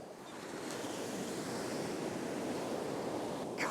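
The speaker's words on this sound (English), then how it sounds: "these waves are flying in" Ocean waves surge onto a beach on Uist, a broad roaring wash that swells and holds steady with wind in the background, no voices.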